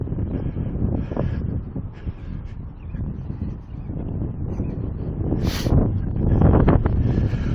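Strong wind buffets the microphone in a constant low roar along the seaside boardwalk at Puerto Madryn, Argentina, gusting louder toward the end, with no talking.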